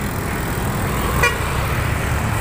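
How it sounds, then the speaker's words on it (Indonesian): Heavy traffic at Belawan port, crowded with container trucks, gives a steady roadway rumble, and one short horn toot sounds near the middle. "Ini rame truk kontainer ya"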